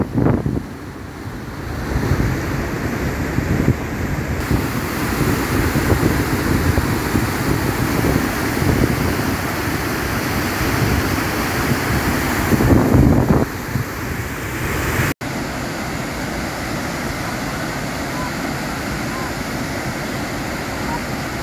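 The Cachoeira do Urubu waterfall in Batalha, Piauí, roars as a steady, broad wash of rushing water that runs unbroken throughout, close and loud. Wind buffets the microphone in places.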